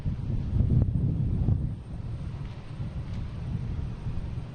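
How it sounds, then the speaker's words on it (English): An American Airlines Airbus A319 taking off at Boston Logan, heard as a broad low roar with wind buffeting the microphone, louder at first and then settling to a steadier rumble. "Next taking off should be American Airlines."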